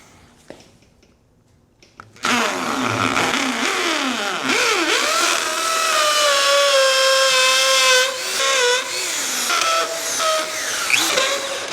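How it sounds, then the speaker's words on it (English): After a short quiet stretch, a power drill whines loudly and steadily for about ten seconds, its pitch dipping and rising as it bores holes into wood for caster wheels on a homemade dolly. "We're going to drill some holes for these casters."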